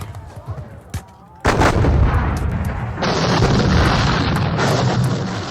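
Horse artillery cannon fire in a Napoleonic war strategy game set in the Waterloo campaign: a sudden loud boom followed by sustained rumbling volleys and crackling gunfire that continue to the end.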